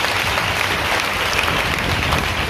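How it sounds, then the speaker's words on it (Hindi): A congregation at a Hindi-language church sermon claps in the name of the Lord, steady dense applause throughout, loud and close, with no voices. "ताली बजा के प्रभु के नाम में"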